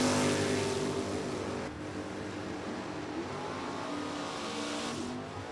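NHRA drag race cars, one a 1965 Fastback Mustang, roar steadily down the strip, a loud continuous engine drone that eases slightly partway through and swells again near the end.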